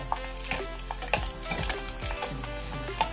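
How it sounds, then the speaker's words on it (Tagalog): Pork crackling sizzles and fries in a pan while being stirred, with irregular scraping clicks and knocks from the utensil over a steady crackle. "kailangan lang talagang halu-haluin para maganda yung pagkalabasan"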